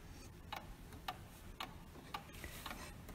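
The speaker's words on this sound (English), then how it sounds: "the sound of this clock was their constant companion through each mealtime" A Shaker dining room clock, installed in the Great Stone Dwelling at Enfield Shaker Museum, ticks quietly and alone in a steady, evenly spaced beat of crisp clicks.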